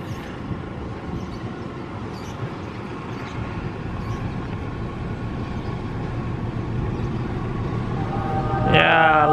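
A CC201 diesel locomotive train rumbles past close by at a rail junction, its steady roar growing louder, with a voice speaking briefly near the end.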